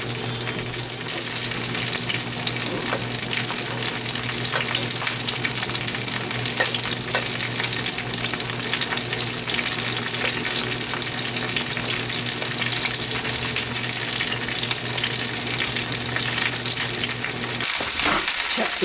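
Bacon frying in a pan gives a steady, close sizzle with crackling pops throughout, loud and even, with a brief clatter near the end.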